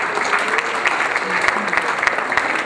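A crowd at an Iftar gathering applauds candidates from Montreal with steady, dense clapping throughout and voices faintly beneath.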